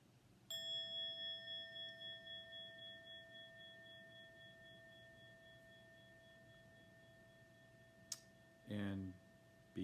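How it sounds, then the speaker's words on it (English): A meditation bell strikes once and rings out with a long, steady, slowly fading tone that sustains for several seconds in a quiet room, followed by a faint tap and a short rustle near the end. "we'll hear the bell"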